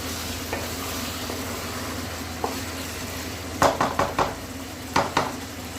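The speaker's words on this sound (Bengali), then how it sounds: "মটন যত কষবেন তত টেস্টি হবে।" Mutton being sautéed and stirred in a pan with oil, a soft sizzle underneath and a run of sharp spoon scrapes and clanks against the pan in the second half.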